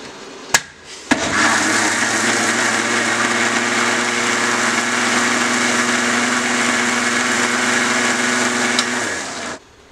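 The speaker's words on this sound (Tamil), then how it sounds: "வெறும் தக்காளியை மட்டும் அரைச்சிக்கணும்" A mixer grinder whirs loudly and steadily for several seconds grinding tomatoes after a couple of clicks, then winds down at the end.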